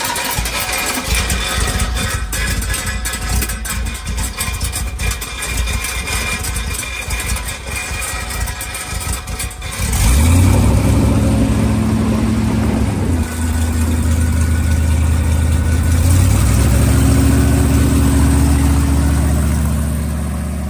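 After a stretch of rough background noise, an engine fires up loudly and close by, then holds a steady idle before its pitch rises as it is revved.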